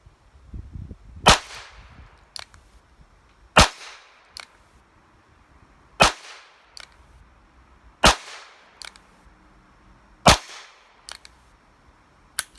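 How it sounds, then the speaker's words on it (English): .22 Quiet rounds fired from a revolver give six sharp, light cracks spaced about two seconds apart, each trailed by a small tick or echo, close by and with no voices. "There's 6 shots of 22 Quiet."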